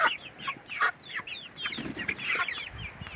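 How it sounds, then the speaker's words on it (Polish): Several incubator-hatched chicks and chickens cluck and peep close by in quick, overlapping bursts, a busy chatter of fowl with no talking. "tutaj kurczaki są z inkubatora wylęgnięte"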